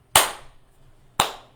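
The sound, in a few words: hands clapping a syncopated rhythm on the and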